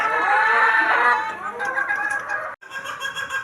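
Chickens clucking close by in a poultry setting, dense overlapping calls that ease slightly partway through before continuing.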